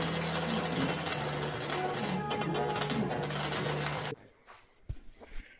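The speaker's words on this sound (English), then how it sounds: "I'm just going to start grinding them down and cleaning them up." Welded metal door pieces for a CFMoto Uforce 1000XL being ground down: a harsh, steady grinding whine at close range for about four seconds, then it stops abruptly and a few light knocks and clatters follow.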